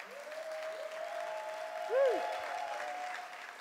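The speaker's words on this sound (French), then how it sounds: "Applaudissons encore très fort" Applause at an anniversary celebration heard fairly faint and distant, with a whistle-like tonal sweep and a brief voice cutting through the soft clapping.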